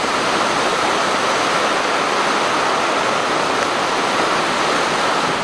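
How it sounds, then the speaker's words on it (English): Lake Superior waves wash and roar in a constant broadband rush, loud and close along the shore in winter, with no voices heard. "The waves are getting bigger and bigger."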